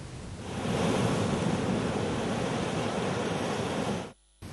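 Storm-driven high tidal waves pound the Andhra Pradesh coast near Kakinada, a loud, continuous roar of surf with wind noise that swells, holds steady, then cuts off abruptly near the end.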